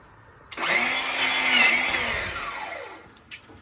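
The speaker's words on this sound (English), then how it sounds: "I want to take this piece of trim and just cut it on a 45 like I normally would if I was going to miter my cuts" A power saw cuts a 45-degree miter through shoe molding trim, one steady whining cut lasting about two and a half seconds, loud and close, with no talk over it.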